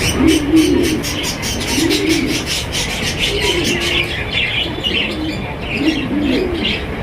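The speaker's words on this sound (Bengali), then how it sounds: "কত চমৎকার একজন আপনার কালারিং রাসগোল্লা কবুতর পাইতেছেন" At a pigeon market selling fancy coloured pigeons, soft throaty coos repeat every second or so close by, with light chirps and rustling around them.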